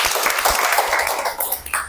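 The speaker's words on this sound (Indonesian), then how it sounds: "Tepuk tangan." Classroom applause breaks out in a lesson, a short burst of many hands clapping close by, dense and uneven, fading briefly before a final flurry.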